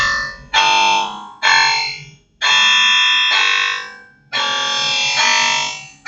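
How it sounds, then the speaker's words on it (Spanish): Buzzer alarm of a people-counting circuit with an LCD and red LED, triggered when the count reaches ten: loud, harsh electronic tones repeating in long pulsing bursts separated by brief gaps, close up and alone. "entonces se activa la alarma sonora y el LED rojo se enciende"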